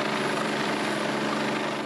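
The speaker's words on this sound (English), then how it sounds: "The AGL Action Rescue Chopper demonstrated winching above the waves" Rescue helicopter hovering low over the sea off a beach during a surf lifesaving winch demonstration, its steady dense rotor and engine roar filling the whole moment, loud and close with no talk.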